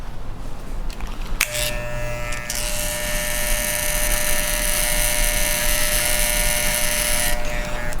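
Barber's electric trimmer marking sideburns before a hot towel face shave, a close, steady high-pitched buzz switching on after a brief click and running for several seconds.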